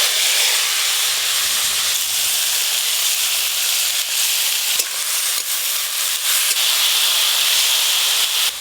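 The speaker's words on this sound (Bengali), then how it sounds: "এবার আলু উচ্ছেটা ভেজে নেব।" Potato and bitter gourd pieces frying in hot oil, a loud, continuous hissing sizzle that holds steady throughout, with small crackles and pops breaking through.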